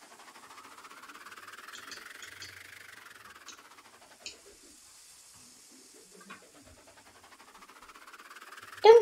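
A passenger train running in the Roblox game RO-Scale Central Railroad on a mountain line gives a steady, moderate engine drone that rises and falls in pitch, with a few faint clanks and a brief loud knock at the end.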